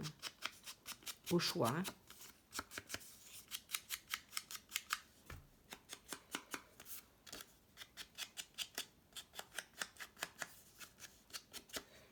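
Scissors cutting paper freehand for a shabby vintage junk journal, a long run of close, crisp snips in a steady, even rhythm, with a short pause in the middle and a few brief spoken words.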